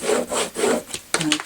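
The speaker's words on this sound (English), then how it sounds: "just with your bone folder, just make sure you've got a nice firm burnish." Bone folder burnishing score lines on a paper file folder mini album, giving repeated firm rubbing strokes with short pauses between, close and clear.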